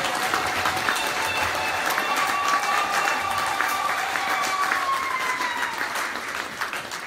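A church congregation applauds steadily in a large hall, dense continuous clapping with a few cheers and calls, holding loud for several seconds before easing slightly at the end.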